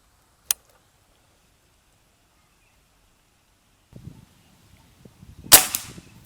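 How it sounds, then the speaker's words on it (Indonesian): Two sharp air rifle shots crack close by at a target, one early and one louder near the end, separated by quiet and some low rustling. "Lanjut tembakan kedua."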